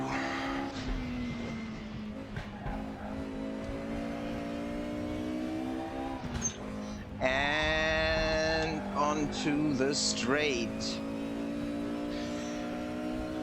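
Mercedes 190 Evo race car in RaceRoom lapping the Nordschleife, a steady engine drone rising and falling through gear changes, with a sharp high rev surge midway, under a brief spoken remark.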